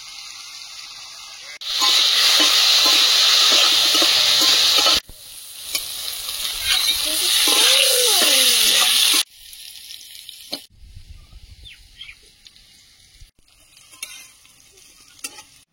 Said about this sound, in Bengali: কড়াইতে তেল দিয়ে দিচ্ছি, আলুটা ভেজে নেব।